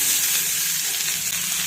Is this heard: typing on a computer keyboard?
no